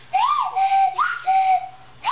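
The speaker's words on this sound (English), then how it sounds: "Now he wants his whistle." A toy whistle is blown in four short, bright toots, each bending slightly in pitch, loud and close, with brief silent gaps between them.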